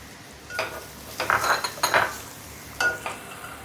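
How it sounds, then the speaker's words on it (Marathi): Grated fresh coconut is stirred into hot ghee in a pan, with light utensil clinks and scrapes in short bursts over a faint sizzle, close and fairly quiet. "आता ह्या तुपामध्येच हे ओलं खोबरं घालून घेणार आहे"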